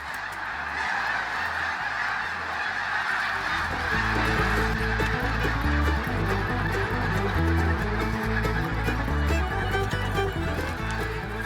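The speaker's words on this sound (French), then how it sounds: "C'est des oies blanches." A large flock of snow geese passes over a greenhouse, their honking calls overlapping in a loud, continuous clamor that builds and holds.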